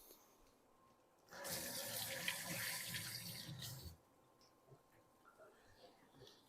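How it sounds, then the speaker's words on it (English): Tap water runs over fingers at a kitchen sink for about two and a half seconds, a steady close splashing hiss that starts and stops abruptly against quiet room tone. "So I'm going to give my fingers a quick rinse here."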